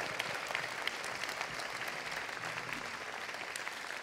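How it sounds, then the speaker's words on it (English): An audience gives a sustained round of applause for actress Shirley Jones at a university event, dense, steady clapping filling the room from start to finish with no voices on top. "Can we give Ms."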